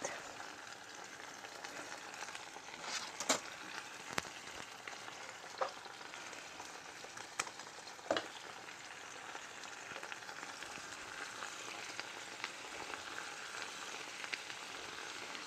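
Tomato purée hitting a hot pan and sizzling steadily, a constant close frying hiss with occasional sharp clicks and taps of a utensil against the pan, no talking.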